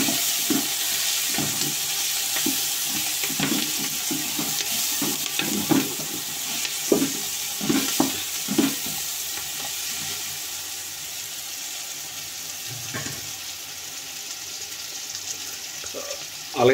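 Masala frying in a pan for egg biryani while a spoon stirs it through, a steady close sizzle broken by repeated scraping strokes in an uneven rhythm.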